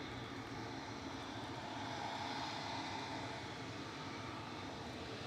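A Swiss Airbus A320, registration HB-JBD, on the flight back to Zurich from Manchester Airport gives a faint, steady engine roar, distant and unbroken, with no talk.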